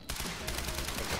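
Shotgun fire in the video game Quantum Break, a dense, loud burst of blasts packed into a second of continuous combat noise with no talking.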